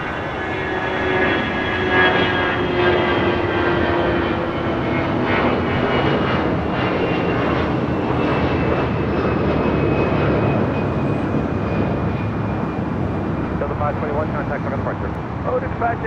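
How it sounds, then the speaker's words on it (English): A Delta Airlines A320, an ex-Northwest jet, takes off with a sustained loud engine roar that slowly shifts in pitch as it climbs away, while a voice talks over it. "Taking off there, that was Delta Airlines Flight 521 heading to Dallas, Fort Worth, Texas, and that old Northwest A320 delivered to them"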